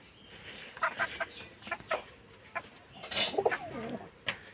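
Young pigeon chicks in a cage give scattered soft peeps and squeaky chirps in short irregular bursts, close by and fairly quiet, with no one talking.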